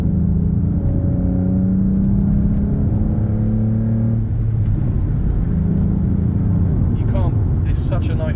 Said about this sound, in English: Let's whack it down a few gears and listen to that lovely V6 noise.